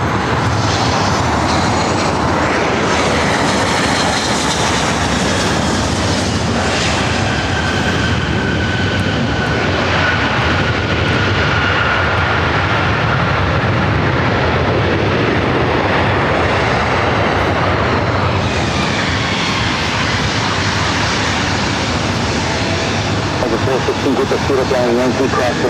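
A jet airliner at Los Angeles LAX roars loudly and continuously, a broad rushing engine noise that swells and shifts as it passes, with talk mixed in.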